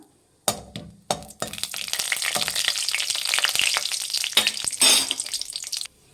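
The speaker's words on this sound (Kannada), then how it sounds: "ಮೊದಲಿಗೆ ಗೋಡಂಬಿ ಹಾಕ್ಕೊಳ್ಳಿ. ಒಂದು ಸ್ವಲ್ಪ ಫ್ರೈ ಮಾಡಿ ಅದನ್ನು" Cashews drop into hot ghee in a pot and fry with a steady crackling sizzle, broken by a few sharp clinks and knocks of a spoon against the metal.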